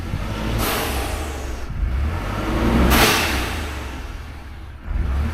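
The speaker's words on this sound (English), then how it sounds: "Just do a little brake boost so that you hear it" A Ford F-150 3.5L or 2.7L EcoBoost with a Turbosmart Vee Port EM blow-off valve, engine revving up under a brake boost with two loud whooshing bursts and a steady engine drone, no voices.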